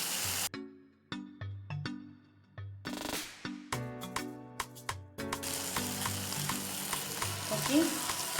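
Ginger garlic paste frying in a pan with mashed tomatoes, a continuous close sizzle broken by repeated scraping strokes of a stirring spoon against the pan.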